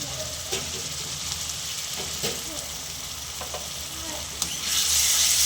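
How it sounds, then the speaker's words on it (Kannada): Ginger garlic paste sizzles and fries with onions in a pan, a steady close hiss with a few stirring scrapes, rising louder near the end. "ಒಂದು ಸ್ಪೂನು ಜಿಂಜರ್ ಗಾರ್ಲಿಕ್ ಪೇಸ್ಟ್ ಹಾಕೋತಾ ಇದ್ದೀನಿ"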